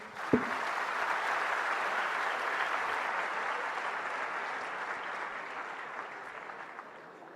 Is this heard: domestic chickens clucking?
no